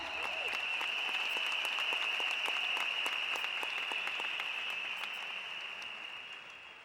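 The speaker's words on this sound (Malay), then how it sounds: "Jadi di sini saya jemput tepukan Anda" Audience applause at an Elken awards night: steady, sustained clapping from a large crowd, moderately distant, with a constant high tone running through it and a gradual fade at the end.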